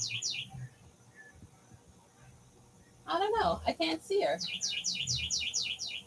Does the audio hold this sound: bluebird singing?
yes